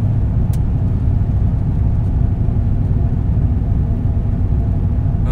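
A Nissan Titan pickup truck drives on a road with one bad tire, producing a steady, loud low-frequency engine and road rumble heard close up and continuously, with no talking.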